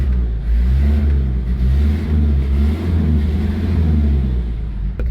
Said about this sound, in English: Running a little bit rough. Sounds like it's about to stop actually.